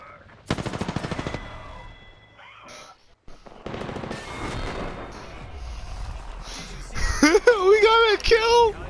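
Rapid bursts of gunfire from the Apex Legends battle-royale game, loud and close, broken by pauses and game effects, with a voice talking over parts of it.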